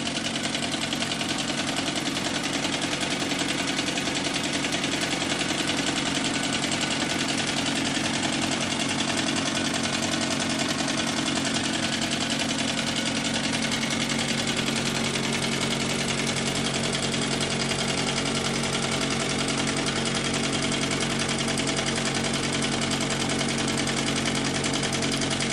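A Bowman 234 model engine runs with plenty of light oil in its cylinders and bearings, giving a steady, continuous mechanical whirr and chatter that holds evenly throughout with no talking.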